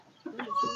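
Chickens clucking close by, a short burst of soft throaty clucks rising in loudness over under a second, alone with no talk.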